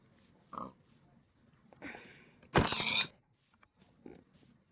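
Pigs oink and squeal in a hardcore survival video game, scattered short grunts and one louder creaking squeal amid quiet background noise.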